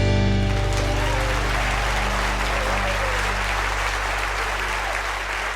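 Studio audience at an eTown Hall live radio taping applauds warmly for the host, a steady, dense wash of clapping that holds at full strength, with faint cheers mixed in and no talk over it.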